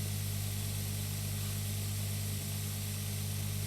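An orchard sprayer in Pure Farming 2018 runs steadily with a constant, loud hissing spray over a low engine drone, unchanging throughout with no talk.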